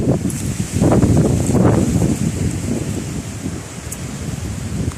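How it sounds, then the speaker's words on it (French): Wind gusting outdoors in the Beghanda valley near Tawarda, a rough low rumbling roar against the microphone that swells and eases over five seconds, loud and close with no talk. "Et voilà le souffle de vent."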